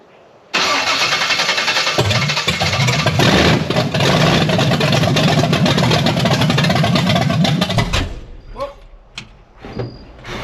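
A Blueprint 540 big block V8 with a carburetor, running way out on timing, roars loud and close for about seven seconds with rough revving and popping, then cuts off abruptly, leaving a few faint clunks and voices.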